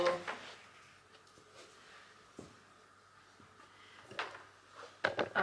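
A washing machine door is opened in a home laundry setting, heard as a few faint clicks and soft knocks scattered across a quiet background, with a sharper latch-like clatter near the end.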